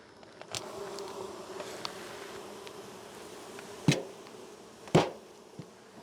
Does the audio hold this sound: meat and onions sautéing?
no